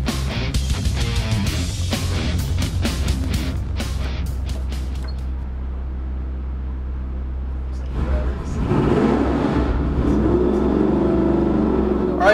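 A small-block 350 V8 with an Edelbrock Victor Jr intake, Hooker headers and a 750 double-pumper Holley carburetor runs on a dyno, a loud steady rumble with sharp crackles early and a rising roar near the end.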